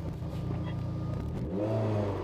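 A Peugeot 306 GTI-6 engine with a lightened flywheel revs sharply from a quick throttle blip, rising and falling in pitch, heard close from inside the car with no talking.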